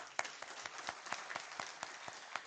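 Audience applause at a first aid specialist opening ceremony, a steady wash of many hands clapping at moderate level with a few sharper claps standing out, no talk.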